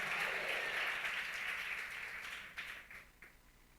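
A church congregation claps together in a broad, dense wash of applause that is loud at first, then gradually thins and fades, with a few scattered claps near the end and no talking over it.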